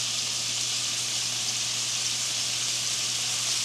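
Shrimp fry in garlic butter with burst tomatoes in a hot pan, giving a steady, close, hissing sizzle that holds evenly without pause and with no talk.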